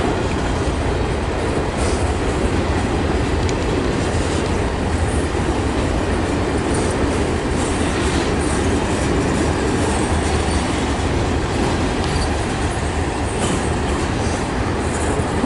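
A long freight train hauling intermodal containers and mixed freight cars passes close in a rail yard, a loud continuous roar of rolling wagons with clickety-clack and wheel squeal throughout.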